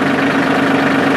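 A Massey Ferguson 1700 series tractor engine idles steadily just after starting, a loud, continuous close-up rumble with a smooth, even drone and no break throughout.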